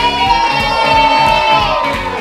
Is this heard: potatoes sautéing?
no